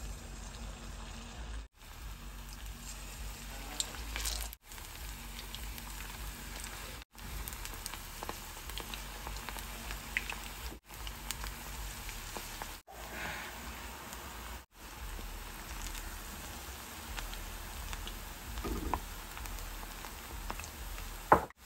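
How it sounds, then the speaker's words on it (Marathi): Steady crackling sizzle of hyacinth bean pod pakoras frying in hot oil, a dense rain-like hiss that runs continuously at moderate volume with no talking. "तर आपण आता यात हे तळणार आहोत"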